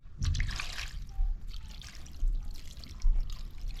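Water pours and trickles over mutton being washed, with close splashing and dribbling and several heavier gushes.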